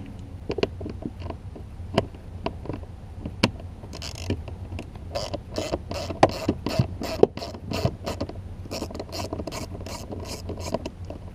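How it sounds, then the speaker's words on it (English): A ratchet tool removes the screws from a BMW 3 Series F30 cabin air filter cover in rapid clicking bursts with short pauses, close and clear, no talking. "So you're just gonna take the screws out and remove the cover and remove your filter."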